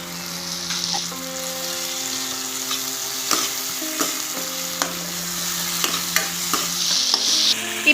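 Onion, tomato and ginger garlic paste sizzle steadily in a pan for a prawn gravy, a spatula scraping and clacking against the metal every second or so, close and fairly loud without any talk.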